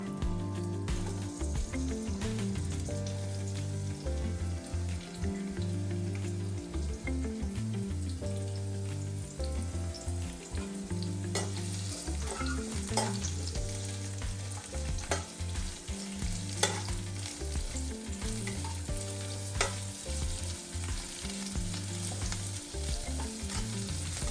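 Onions frying in a pan as the base for a bottle gourd kofta gravy, a steady loud sizzle with stirring scrapes running throughout, no voices.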